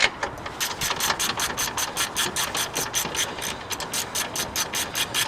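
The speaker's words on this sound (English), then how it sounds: "You take the smaller ratchet in because it's easier to" A small hand ratchet clicks rapidly and evenly while loosening the nuts on a filter housing, close and moderately loud, alone with no talking.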